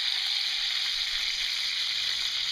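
Chicken thighs and asparagus sizzling steadily in a hot pan, a constant bright crackle of frying fat at moderate volume with no voices.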